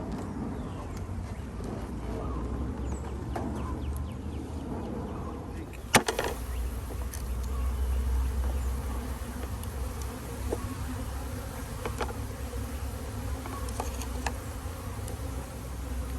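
Honey bees buzz in a steady, dense hum from an opened hive on a farm, with one sharp knock partway through and no talking.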